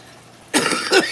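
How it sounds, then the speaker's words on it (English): A single person's cough, then a second, rougher cough, both close and fairly loud after a quiet start, the cougher unwell from medicine. "That medicine is making me like cough up a lung."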